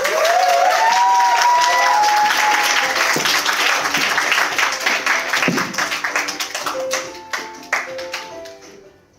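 An audience at a talk-show stage event bursts into loud, sustained applause to welcome a speaker, dense clapping that thins into scattered individual claps toward the end, with a brief voice and music under it.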